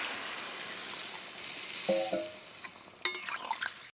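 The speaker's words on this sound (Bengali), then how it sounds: "থালাটা ধুয়ে জল দিয়ে দিচ্ছি" Hot oil hisses steadily under a fish curry cooking in a pan as water is poured in. Brief tonal clinks and splashy bursts near the end cut the sizzle before it stops abruptly.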